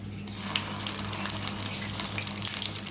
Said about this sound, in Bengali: এখন আমি এটার মধ্যে বেটে রাখা সরিষা দিয়ে নিব।